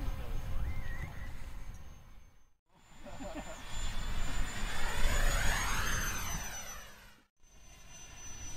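A 3D-printed radio-controlled North American FJ-4 Fury model jet passes overhead on its maiden flight, its whine rising and sweeping through a Doppler arc before fading, with voices and outdoor noise around it.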